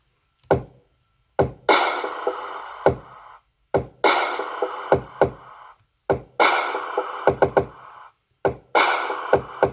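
Simple electronic drums from a track's drop: punchy kicks and knocks with bursts of bright snare or clap noise, in a repeating pattern of loud hits separated by short gaps, alone.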